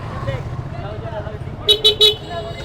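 Vehicle horns honking in a traffic jam at a busy market, three short loud toots near the end over a low motor and road hum, with someone talking.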